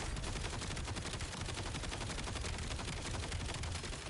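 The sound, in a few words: gunfire from a gun in the video game Black Ops 7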